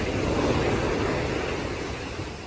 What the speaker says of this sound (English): But look at those waves.